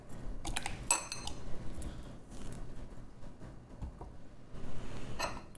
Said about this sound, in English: Just with a spoon, I push it down a little bit so I have more room.